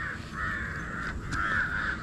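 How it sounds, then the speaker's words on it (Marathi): Crows caw in repeated harsh calls while attacking egrets, several drawn-out caws in a row, fairly close, over a low background rumble. "कावळ्यांनी बगळ्यांवरती अटॅक केलेला आहे"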